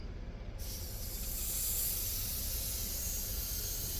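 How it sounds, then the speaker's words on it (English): A garment steamer on its turbo setting blows a steady, loud, broad hiss of steam onto a bandana held about an inch away, rising just after the start and holding continuously, with no voices. "I'm not touching the steamer on the bandana. I'm about 1 inch above it."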